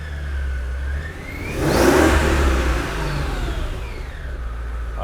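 A supercharged Mercedes-Benz engine tuned toward 600 horsepower revs hard, a loud rising surge that peaks and then eases back to a steady rumble, close by with no voices.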